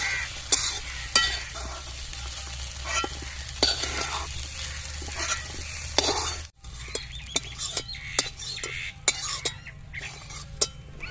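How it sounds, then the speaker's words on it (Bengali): Soybean chunks frying in hot oil in a pan, a steady close sizzle with repeated scraping stirs and light utensil clinks, briefly cutting out before the frying and stirring resume. "সয়াবিন আমি ভালো করে ভেজে নিয়েছি সয়াবিনটা এবার আমি তুলে নেব"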